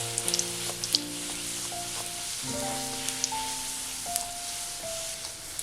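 Dough sizzles and crackles steadily in hot oil as it puffs up like puri, a close, continuous frying hiss with small pops, alongside sustained background tones and no talk.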